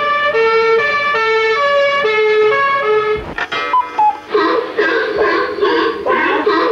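A man vocally imitates a police siren, a loud, close, wavering two-tone wail that cycles repeatedly before turning into rougher, broken vocal noises.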